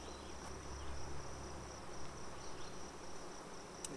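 Saskatraz honey bees hum softly around an open hive, a faint, continuous buzzing drone with light rustles and a brief tap near the end.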